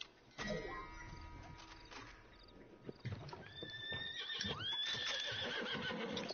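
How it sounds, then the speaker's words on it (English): A horse in Red Dead Redemption 2 whinnies loudly with rising, wavering cries in the second half, after soft hoof clip-clops and some faint game noise. "Whose horse is that?"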